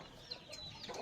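Hens fussing in a farmyard give soft, scattered clucks, fairly close and quiet, with no voices over them.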